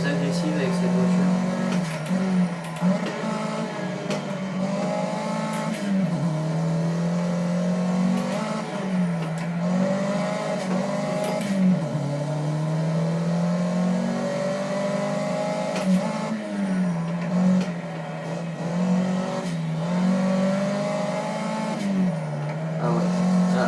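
A car is driven hard around the Bugatti circuit at Le Mans, its engine revving and changing pitch through gear shifts and corners while someone talks over it throughout.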